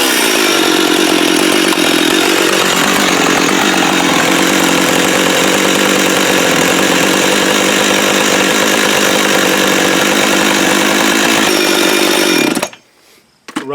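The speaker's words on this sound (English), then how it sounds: "So I went and ran it in the wood, a test bar and chain." A Husqvarna 357xp chainsaw fitted with a test bar and chain runs loud and close in a continuous high roar, then cuts off abruptly near the end, leaving near silence.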